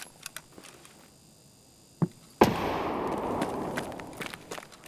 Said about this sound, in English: I'm gonna throw a nade at 2 of elbow.